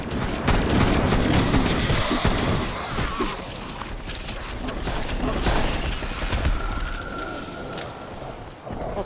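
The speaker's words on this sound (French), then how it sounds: "Un fusil à pompe." A pump shotgun fires in a video game, heavy booming blasts over a busy layer of gunfire and clattering game effects, loud and close throughout.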